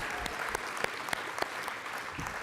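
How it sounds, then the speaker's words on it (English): Sustained applause from an audience at a chamber of commerce awards and member meeting, a dense steady wash of many hands clapping with a few sharper claps standing out. "this one's a big round of applause"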